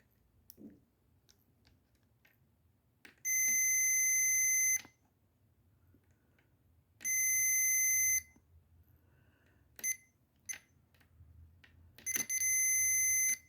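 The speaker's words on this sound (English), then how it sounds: "I'm going to touch either end of the fuse and listen for the beep." A multimeter set to continuity beeps as its probes touch either end of a fuse, giving three loud, steady tones of about a second and a half each, separated by faint clicks of the probes.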